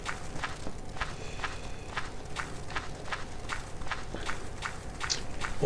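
Footsteps walking in MineClone2, a Minecraft-style game: a steady, even rhythm of soft crunchy steps, about two per second, continuing throughout at moderate loudness with a faint background hum.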